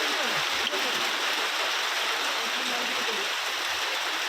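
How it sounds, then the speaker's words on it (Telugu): Heavy rain pours across Hyderabad as a dense, steady hiss of falling water, loud and unbroken throughout. "హైదరాబాద్ వ్యాప్తంగా పలు ప్రాంతాల్లో వర్షం కురుస్తుంది"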